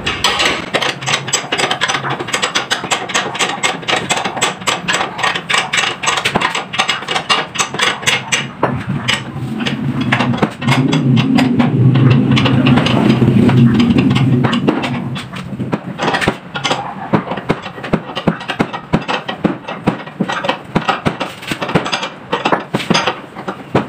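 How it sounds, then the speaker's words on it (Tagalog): A 19mm box wrench ratchets as it tightens the stabilizer nut on a Toyota Vios, giving rapid metallic clicks in bursts with brief clunks and a short low rumble in the middle. "Higpitan lang po natin ang kanyang nut gamit ang 19mm back ring."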